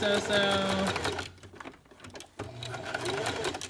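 A sewing machine runs in bursts while stitching the shoulder seam of a 0-3 month baby sleeper. A close, rapid mechanical whir stops briefly midway, then resumes, with a voice heard over it.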